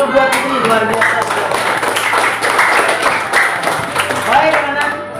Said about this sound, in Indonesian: tepuk tangan dulu buat Putri, luar biasa.